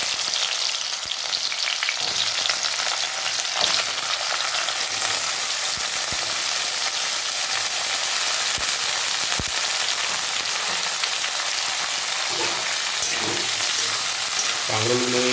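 Pointed gourd (kakrol) pieces fry in hot oil with black cumin in a pan, a continuous close sizzle and crackle with occasional stirring scrapes and no talking.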